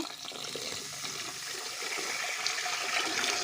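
Water pours steadily onto sugar in a pot for amla jam, a continuous splashing rush that stays close and even for the whole stretch, with no voices.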